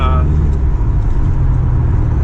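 A lowered Mercedes W123 diesel cruising at 40 mph gives a loud, steady low engine drone with road rumble inside the cabin, and a voice speaks over it.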